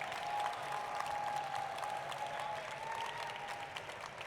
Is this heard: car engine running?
no